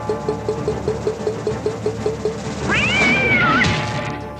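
A cat's long rising-and-falling meow rings out from a 1990s Bally-Williams pinball machine as it flings a cat at a castle, over a steady mechanical ticking rhythm and an engine-like hum.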